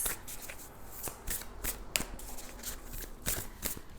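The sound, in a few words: shuffling tarot cards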